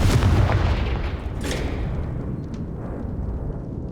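A Confringo explosive spell in the Hogwarts Legacy video game on Nintendo Switch, a loud booming blast at the start whose rumble decays over a few seconds.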